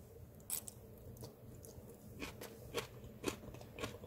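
Crunchy seasoned bean sprouts cooked with radish and perilla oil being chewed close up, a few faint crisp bites and soft crunches spaced irregularly over quiet background.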